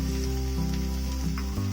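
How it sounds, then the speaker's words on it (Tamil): Chopped ripe bitter gourd sautéing in a pan for sambar, a steady close sizzle of frying vegetables with a low hum underneath, continuous throughout. "இந்த டயத்துல அரிஞ்சு வச்சிருந்த காயையும் போட்டு வதக்கிக்கலாம்."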